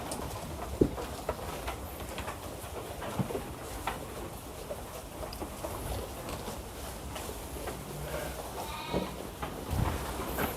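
Garut sheep bleat now and then among a crowded livestock pen, several calls near and far over a constant busy background murmur.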